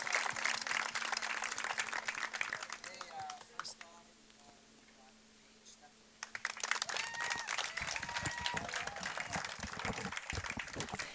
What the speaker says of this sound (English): So if we could get everybody just to say thank you, round of applause